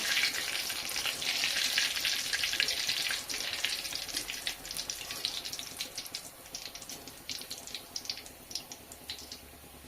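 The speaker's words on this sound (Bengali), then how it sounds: "বাকিগুলো সেম প্রসেসে ভেজে নেবো" Steady crackling sizzle of cauliflower frying in hot oil until golden brown, loud at first and settling into a softer, continuous fizz with scattered pops.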